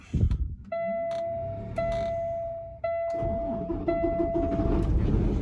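A vehicle engine cranks and fires up, then settles into a low, steady idle rumble, while a dashboard warning chime repeats several times over it.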